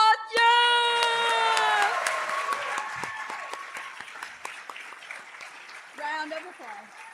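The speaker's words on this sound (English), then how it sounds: "I also want to give you guys another round of applause." An audience at an education awards ceremony breaks into loud, sustained applause with cheering and whoops, and a voice shouts near the start. The clapping gradually thins out as talking resumes.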